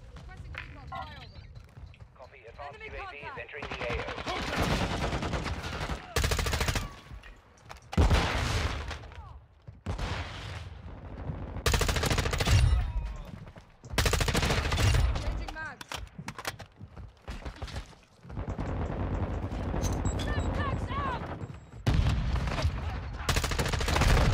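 Gunfire in Modern Warfare 2, the multiplayer shooter game: bursts of rapid shots and louder single cracks come in clusters throughout, close and loud, with a player talking over the action.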